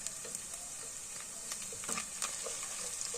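Chicken pieces sizzle and fry steadily in hot oil in a karahi, a constant bright hiss with small pops and occasional stirring clicks, close and alone with no talk.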